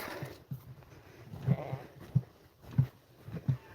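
American Blackbelly sheep bleat outdoors on a northern Arizona ranch, several short nasal calls spaced irregularly over a few seconds, moderately close with faint background noise and no talking.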